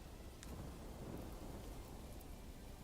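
Rain pours steadily in the Manor Lords video game while a low rolling rumble of thunder swells underneath, a dense continuous wash of sound with no voices.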